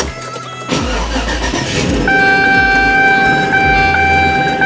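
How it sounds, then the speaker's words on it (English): A 2004 Chevy Avalanche with a 5.3 V8 cranks briefly, then catches and starts. It settles into a loud, steady idle, close by, with no talking. "So this is gonna be the second startup that I've done."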